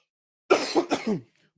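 A single close, harsh cough, a rough burst breaking into a few raspy pulses, followed by silence.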